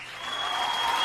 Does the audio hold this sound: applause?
yes